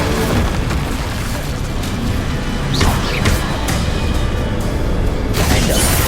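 Incendio fire spell cast during combat in Hogwarts Legacy, a loud burst of booming, roaring flame over a dense, continuous wash of battle noise with sharp whooshes and impacts.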